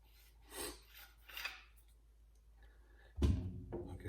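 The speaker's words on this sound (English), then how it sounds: "So let's just break down the shovel here." Metal parts of an Annihilate FA-3 folding shovel scrape and rub as it is taken apart, with two soft raspy passes followed by a louder, closer clank of metal near the end.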